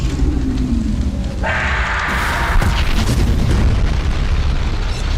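In an animated Skibidi Toilet episode, a loud, booming explosion erupts with a sharp burst, followed by a sustained roaring rumble and crackling debris that fills the scene.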